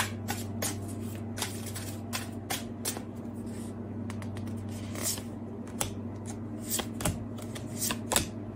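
Tarot cards being shuffled for a clarifier card, a steady close run of papery riffling and flicking with soft sharp snaps throughout, over a low room hum.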